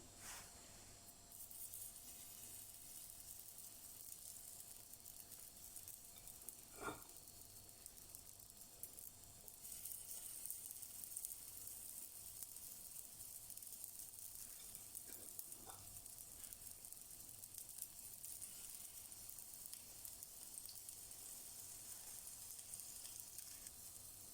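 Quiet, steady sizzling of fritter batter with sausage and cheese frying in vegetable oil in a pan over medium heat, a continuous soft crackle with a couple of faint clicks.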